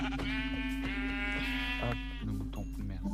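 Sheep bleating in a video game, one long wavering bleat followed by a shorter one, loud and close, over a steady low hum with no talking.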